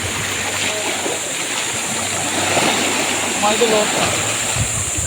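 Sea waves wash over a rocky shoreline in a steady, broad rush of surf with no clear breaks, while someone speaks briefly over the water noise.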